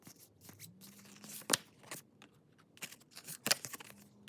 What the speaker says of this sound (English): let me shuffle and let's pull some cards